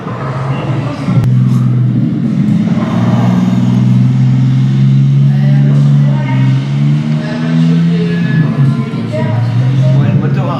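Rear-mounted engine of a Volkswagen Kübelwagen at a Normandy museum near Omaha Beach, running with a steady low drone and shifting pitch throughout, with people talking over it.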